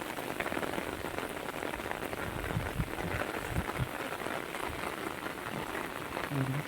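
Heavy monsoon rain pours down steadily over rice seedling beds in the Konkan region, a dense hiss of drops drumming on surfaces, with occasional louder splats close by.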